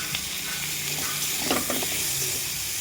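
Chopped onion and green chili frying in a wok after nigella seeds go into the oil, a soft steady sizzle with a few light scraping stirs, close and fairly quiet.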